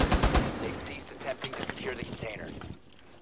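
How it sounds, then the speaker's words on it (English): Gunfire and explosive bursts from Rainbow Six Siege gameplay, with a sharp cluster of loud impacts at the start followed by scattered shots and clatter, fading quieter toward the end. "That was a grenade."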